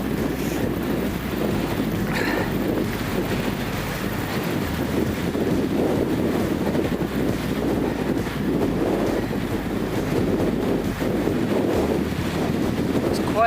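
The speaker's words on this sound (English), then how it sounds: "quite a bit of wind up here today because we're so high up" Strong wind roars steadily across an exposed high-elevation spot during a bike ride, a constant loud buffeting rush with low rumble that never lets up.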